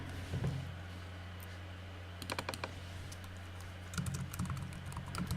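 Quiet typing on a computer keyboard comes in short clusters of quick key clicks, separated by brief pauses over a low steady hum.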